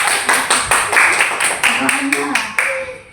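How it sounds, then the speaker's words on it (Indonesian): Small classroom group clapping for a presenting student group, a burst of roughly a dozen loud, close, rhythmic claps, fairly evenly spaced, with some voices mixed in. "tepuk tangan dulu untuk kelompok 1"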